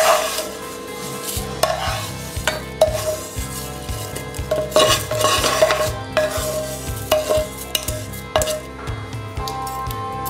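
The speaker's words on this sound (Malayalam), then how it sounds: "ചേർത്തിട്ടൊന്ന് അപ്പം തന്നെ ഇളക്കി കൊടുക്കണം" Roasted vermicelli stirred into foaming milk in a pot for Kerala semiya payasam, a spoon scraping and clinking rhythmically against the pan over a steady background hum, loud and close.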